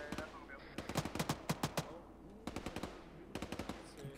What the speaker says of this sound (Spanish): Están disparando a la derecha